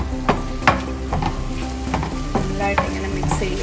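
Onions sizzling steadily in a hot pan for Kerala-style spicy beef fry, stirred with a spoon that scrapes and clacks against the pan at irregular intervals, close and clear with no talking.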